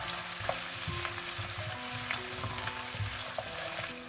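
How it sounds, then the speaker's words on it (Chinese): Spare ribs sizzle steadily in a hot wok as scallion, ginger slices, garlic slices, dried chili pieces, Sichuan peppercorns and star anise are stir-fried, with rhythmic spatula scrapes and clanks over the constant frying hiss. "然后再将葱花、姜片、蒜片、干辣椒段、花椒、八角放进来，继续翻炒均匀"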